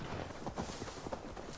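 Horse hooves trotting in Assassin's Creed Valhalla near the town of Quatford, a faint, steady clip-clop rhythm of repeated hoof falls under a low background wash.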